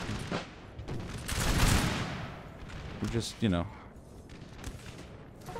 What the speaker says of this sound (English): A volley and they broke.